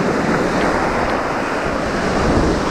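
Calm sea surf washes steadily onto an empty beach at Lazarevskoye near Sochi, a continuous close wash of small waves with light wind buffeting the microphone, no voices.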